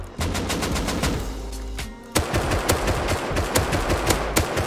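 Gunfire from the video game Rust crackles in quick rapid bursts, loud sharp shots in close succession with a brief lull before a second fast volley.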